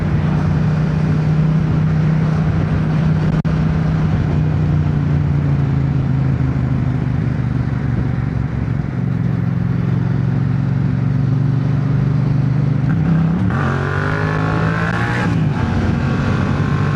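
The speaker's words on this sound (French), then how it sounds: "Là on peut sortir la moto." Yamaha MT-07 motorcycle engine running outdoors on a windy day, a loud steady low idle rumble close by, with the pitch shifting and a brief rev rising near the end.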